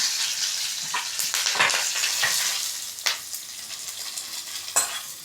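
Curry leaves crackle and sizzle in hot tempering oil for rava upma, a steady bright frying hiss broken by a few sharp spatula scrapes and pops, close and fairly loud with no talking.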